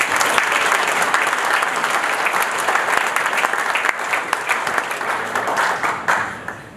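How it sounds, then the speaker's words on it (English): An awards-night audience applauds at a lifetime achievement ceremony, dense sustained clapping that thins into scattered claps toward the end. "So Tim, a round of applause for you."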